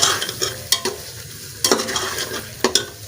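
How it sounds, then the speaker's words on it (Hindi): Chicken, tomatoes and raw spices are sautéed in a pot for a chicken, potato and pea pulao. A spoon scrapes and stirs in bursts over a soft, steady sizzle. "अब इसको 2 मिनट भूनना है ताकि अंदर इसके नमक मिर्च मिक्स हो जाए और टमाटर भी ये गल गए सारे"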